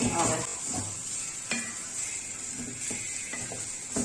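Grated coconut and shallots roasting in a pan sizzle steadily while a spoon scrapes and knocks against the metal in repeated strokes, with no voices.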